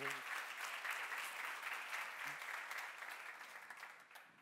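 A church seminar audience applauds, steady continuous clapping from a crowd that gradually thins and fades, with a brief voice at the start.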